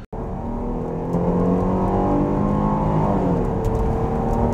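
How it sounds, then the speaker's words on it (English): Steady, loud V6 engine drone heard from inside a 2021 Jeep Grand Cherokee L under full-throttle acceleration, rising in pitch with a low rumbling tone and no talking. "Under full throttle, you do get a bit of noise from that V6"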